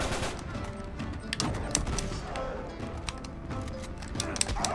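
Repeated gunfire bursts from the video game Uncharted 3 crackle through a dense, busy game mix, with sharp shots scattered steadily across the whole stretch.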